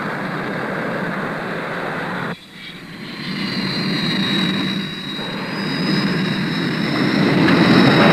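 A Buccaneer jet aircraft engine roars steadily up close on the aircraft carrier HMS Ark Royal, dips briefly, then builds again with a rising high whine.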